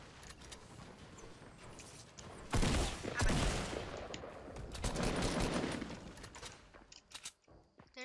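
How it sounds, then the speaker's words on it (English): Video game gunfire, bursts of rapid shots that come and go in loud clusters over a faint background of movement and clatter. "I am being shot at."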